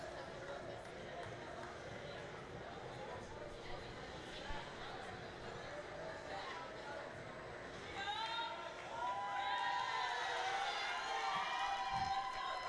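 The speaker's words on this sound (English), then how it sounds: "As the crowd cheers for the referees finally picking up St. Ange's stick, who was left on the ice." A crowd at a men's college ice hockey game between SUNY Fredonia and Plattsburgh murmurs under a commentator's voice, then swells into cheering and whistles in the last few seconds.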